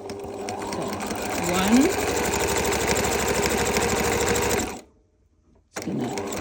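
A Bernina 1000 Special sewing machine stitches a buttonhole with a loud, steady mechanical whir up close. It stops for about a second, then starts again. A voice is briefly heard.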